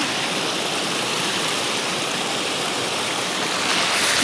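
A mountain stream rushes loudly and continuously close by, a dense, even wash of flowing water with no pauses or other sounds on top.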